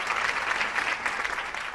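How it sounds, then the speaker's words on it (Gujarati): A studio audience at a televised talk show claps steadily and densely, a close, sustained burst of applause with no talk over it. "તાળી બહુ વગાડો"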